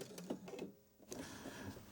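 Short bursts of a domestic sewing machine running a 3-step zig zag stitch, its motor whirring in pulses with a brief pause in the middle, fairly close, no talking.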